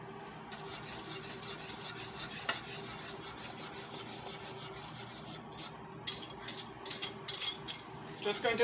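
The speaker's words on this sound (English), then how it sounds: "And you're just going to whisk it." A crème brûlée custard mixture is whisked briskly in a bowl, fast rhythmic scraping strokes close up that pause briefly, then resume in short bursts.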